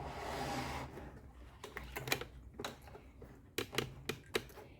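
A sewing machine stitches a clear plastic pencil case, giving short bursts of rapid mechanical clatter in several separated runs after a brief noisy start, close and fairly quiet.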